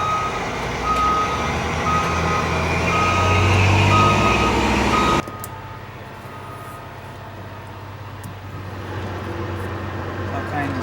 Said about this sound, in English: You'll have to excuse all the loud machinery going on around here.